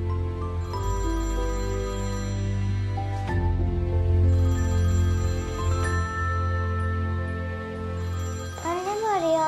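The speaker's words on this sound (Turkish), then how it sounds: "telefon çalıyor." A telephone rings with a loud, sustained electronic tone pattern that repeats over several seconds, with a voice briefly at the end.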